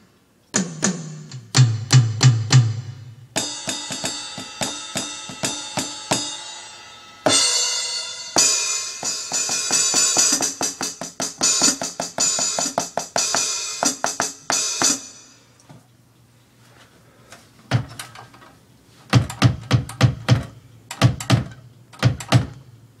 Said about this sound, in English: It's my electric kit.